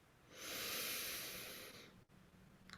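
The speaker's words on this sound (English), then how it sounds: "taking a deep breath in and releasing" One slow, deep breath drawn in and released, a soft airy hiss that swells, holds for over a second and then fades, close and quiet, followed by a brief faint sound.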